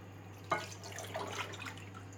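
Water poured into a pot for baklava syrup: one small splash, then a soft, brief trickle and gentle dripping against a low steady hum, with no talking.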